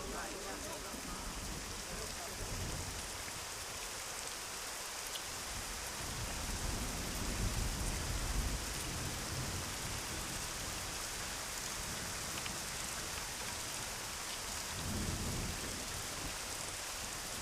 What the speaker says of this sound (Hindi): चल बारिश हो रही है